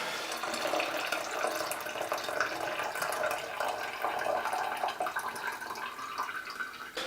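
Film fixer is poured from a bottle into a tank while developing black and white film at home, a continuous close splashing trickle that runs steadily for several seconds, with no talking.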